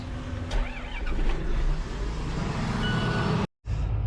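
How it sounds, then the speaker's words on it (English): A heavy engine cranks and catches, then idles with a steady low rumble close by, and a short silence breaks it near the end. "Tractor always starts."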